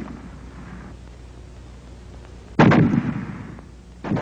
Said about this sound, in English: But you've got another prescription for the boys themselves. The fragmentation grenade.